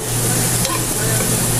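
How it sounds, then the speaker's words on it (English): Fresh spinach hits a hot pan with oregano and Italian seasoning for sundried tomato pasta, giving a loud, steady sizzle with stirring scrapes throughout. "We're going to add this fresh spinach."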